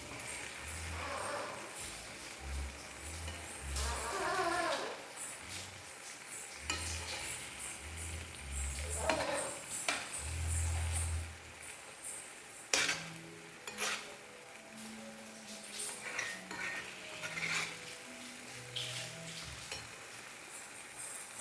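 A spoon stirs tomato, onion and egg curry in a pan, with steady scraping and soft sizzling throughout and little talk.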